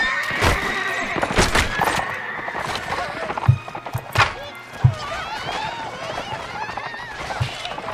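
Horses in a video game whinny and clatter with clip-clop hoofbeats among game sounds, loud and busy, with a voice talking over them.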